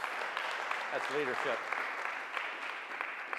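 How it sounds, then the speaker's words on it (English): A room audience claps at a lunch-hour talk on parks and recreation in Chattanooga, steady moderate applause with a brief spoken word from a nearby voice partway through. "Let's give him another round of applause."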